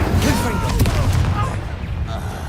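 An Incendio fire spell cast during a duel in the video game Hogwarts Legacy bursts out as a loud booming whoosh with crackling blasts, over a rumbling low background that eases off toward the end.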